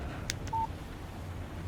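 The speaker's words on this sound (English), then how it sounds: "Text message from Barry" A phone text-message alert in the video game Alan Wake Remastered: two quick electronic chirps followed by a short pure beep, faint and brief over a quiet background hum.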